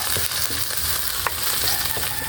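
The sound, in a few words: onions frying in a pan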